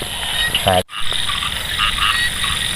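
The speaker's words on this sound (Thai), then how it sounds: "เสียงกบเสียงเขียดร้องเต็มทุ่งนาเลยตอนนี้" A dense chorus of frogs croaks across a flooded rice paddy in the countryside at night after rain. The calls are steady and continuous, cut by one brief break near the start.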